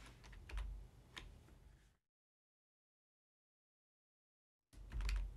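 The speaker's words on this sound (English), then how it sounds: "I'm on a different computer keyboard, so my shortcuts are not lining up" Typing on a computer keyboard, with quick, close clacks of keys for about two seconds, then complete silence, then another short burst of typing.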